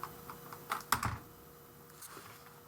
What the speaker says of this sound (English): You can't see it because I'm typing